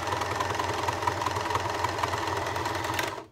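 A sewing machine stitches a cushion back with a rapid, even mechanical chatter that runs continuously at close range, then stops abruptly at the end.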